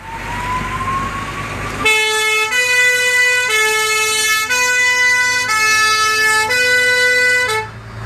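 Volunteer fire truck siren sounding loud and close during a firefighters' day celebration in Parera, a steady multi-tone wail held for about six seconds after a faint rising tone, then cutting off.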